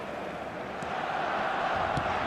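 A stadium crowd in the eFootball video game, a steady dense roar of many voices that swells slightly, with commentary faintly mixed underneath.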